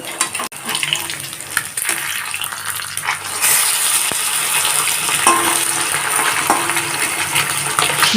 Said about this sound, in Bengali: মাছগুলোকে ভেজে নিচ্ছি মাছগুলোর একটা দিক ভাজা হয়ে গেছে